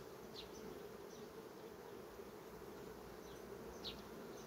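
Bees hum faintly and steadily around a beehive frame smeared with honey, a soft continuous buzz with occasional brief, closer passes.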